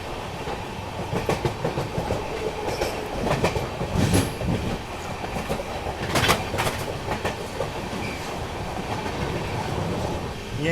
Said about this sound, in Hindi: फिलहाल गुरला जंक्शन को अपनी ट्रेन जो है वो स्किप कर रही है।